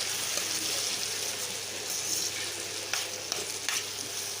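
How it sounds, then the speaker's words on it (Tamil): Mango pachadi being stirred in a pan with spice powders, a continuous close sizzle of frying broken by scraping strokes of a spoon against the pan. "நல்லா கிண்டி வச்சுக்கலாம்."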